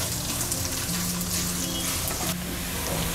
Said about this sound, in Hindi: 2 बड़ा प्याज लंबाई में कटा हुआ मिक्स करेंगे और प्याज का हल्का कलर चेंज होने तक भूनेंगे।